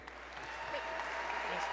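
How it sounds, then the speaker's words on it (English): An audience at an awards ceremony applauds steadily, a dense wash of clapping from a room full of people that holds at an even level throughout. "Another round of applause, please, for Michelle."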